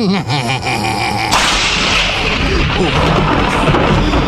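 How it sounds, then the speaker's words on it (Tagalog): Heavy rain bursts into a loud, steady roar after a brief rumble like thunder, with a faint voice in the opening moment. "Sugod na ulan!"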